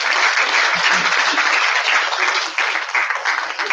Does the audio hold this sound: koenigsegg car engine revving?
no